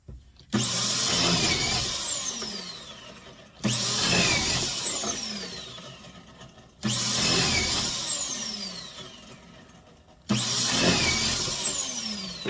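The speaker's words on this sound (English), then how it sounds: "So let's get some of these pocket holes cut and I'll show you how quick that is." A power drill cutting pocket holes into a wooden board for a kitchen island back panel, four loud whirring bursts of about three seconds each separated by short pauses, with no talking.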